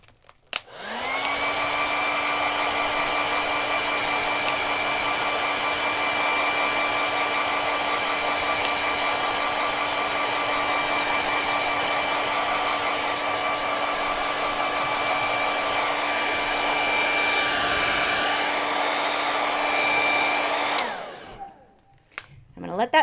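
A heat dryer blows over acrylic paint on a painting, a loud, steady whirring hum that starts abruptly, holds for about twenty seconds with slight shifts in pitch, then cuts off.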